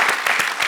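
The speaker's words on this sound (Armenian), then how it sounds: "Արմուշ, բարձր ծափարում եք Արմուշին" A studio audience claps for Armush at a televised evening show, a short burst of rhythmic, evenly spaced claps that sounds close and lively.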